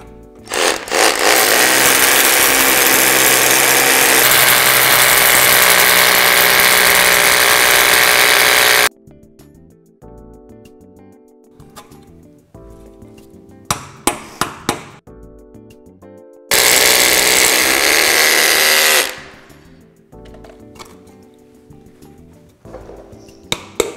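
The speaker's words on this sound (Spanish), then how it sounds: "Y ahora podemos empezar a taladrar." A power drill bores into a wall while dry-lining a damp wall with plasterboard, a loud sustained whine for several seconds, a pause with scattered clicks and knocks, then another long burst of drilling.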